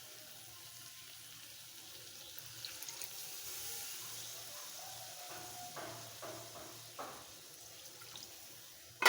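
Broth is poured into a pan of prawns being cooked down for a spicy prawn bhuna, making a steady, faint hissing pour and sizzle that runs through the clip, with light splashes and bubbling toward the end.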